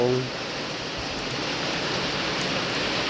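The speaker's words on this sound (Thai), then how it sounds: "ฝนตกค่ะนี่ก็ไม่ได้ไปไหนค่ะนอนเวนอย่างเดียว" Steady rain falls at night in Laos during a power cut, a dense even hiss that stays at a constant level throughout with no clear separate drops.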